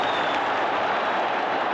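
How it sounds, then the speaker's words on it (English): Rangers football crowd at an Old Firm match roaring hysterically after a left-foot shot, a dense, continuous wall of cheering that stays loud and steady throughout. "And Rangers crowd are hysterical in this start."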